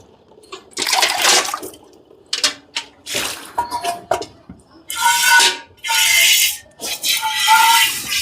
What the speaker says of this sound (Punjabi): ਥਣ ਧੋ ਕੇ ਧਾਰਾਂ ਵੀ ਮਾਰ ਦਿੰਨੇ